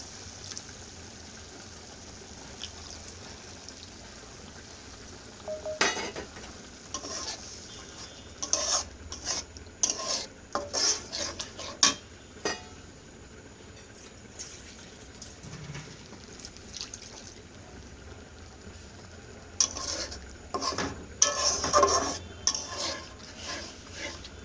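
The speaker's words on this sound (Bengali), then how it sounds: "ভালো করে নেড়ে চেড়ে নিচ্ছি।" Taki fish cooked with rice flour in a pan, stirred in bursts of scraping and clinking utensil strokes over a low sizzle, with quieter pauses between the clusters of activity.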